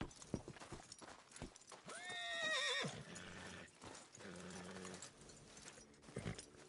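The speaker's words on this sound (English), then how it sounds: "Alright, here's your big ass horse" A horse in the open-world western game Red Dead Redemption 2 lets out a loud, wavering neigh in the middle, framed by soft hoof clip-clops and light shuffling before and after.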